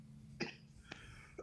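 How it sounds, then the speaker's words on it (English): A man coughs three times in short separate bursts, the first strongest, against a faint steady background hum with no talking. "Before he dies from coughing."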